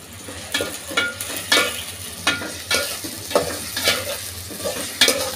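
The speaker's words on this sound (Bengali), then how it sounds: "এগুলো সব আমি একসাথে একটু ভেজে নিই তেলের মধ্যে।" Garlic and ginger paste fries in oil with a steady close-up sizzle, broken by regular scraping stirs of a spoon against the pan about once a second.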